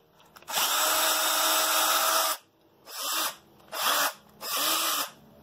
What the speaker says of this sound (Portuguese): Vamos fazer um outro furo aqui